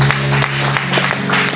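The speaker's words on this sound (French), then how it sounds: "Continue d'acclamer." Congregation at a church reconstruction gathering applauding and cheering, a dense, steady wash of clapping and voices with a sustained tone running beneath.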